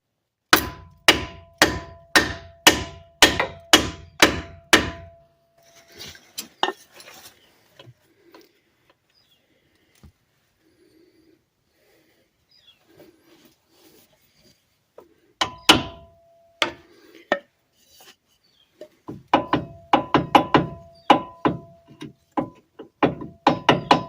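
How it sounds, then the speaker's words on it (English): A metal hammer strikes a piece of wood repeatedly in quick rhythmic bursts, sharp knocks in groups separated by a quiet pause with faint shuffling, during U-joint and axle seal work on a 1998 Ram 1500. "take a metal hammer and my piece of wood"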